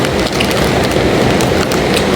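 Steady rain falls as a dense, constant hiss with scattered patter, loud and even throughout, with no voices.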